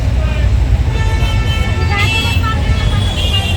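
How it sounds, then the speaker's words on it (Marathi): Dense city traffic in Pune rumbles nearby, with a steady roar of cars and buses and brief horn toots rising out of the noise. "तुम्हाला दाखवते मी पुण्याची ट्रॅफिक एकदा बघा ही ट्रॅफिक पुण्याची"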